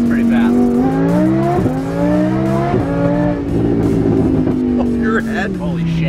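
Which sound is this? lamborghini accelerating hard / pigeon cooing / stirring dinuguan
lamborghini accelerating hard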